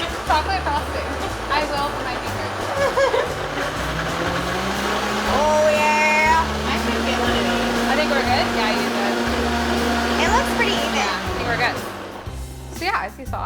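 A Vitamix blender whirs through a holiday drink made with essential oils. Its motor hum climbs as the speed steps up and holds for several seconds before winding down, loud and close, while people talk over it.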